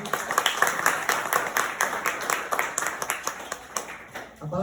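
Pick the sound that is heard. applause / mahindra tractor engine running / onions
applause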